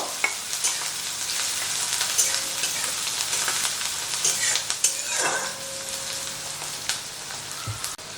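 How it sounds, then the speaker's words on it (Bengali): A medium-sized chopped onion fries lightly in oil, with a soft continuous sizzle broken by repeated spatula stirs and scrapes against the pan, close and moderately loud. "তো পেঁয়াজটা হালকা করে একটু ভেজে নেব।"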